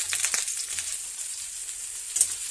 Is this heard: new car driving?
no